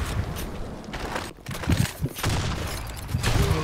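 Gunfire from an online shooter game, with a claymore mine in play: a dense fusillade of shots and bursts, some close and loud, with a brief quiet gap midway and no talk over it.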